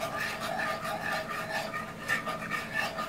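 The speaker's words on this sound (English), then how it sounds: "I'm going to switch to a whisk." A whisk stirring thickening gravy in a pan for smothered pork chops, giving a steady, close scraping and rasping in a regular back-and-forth rhythm with no talking.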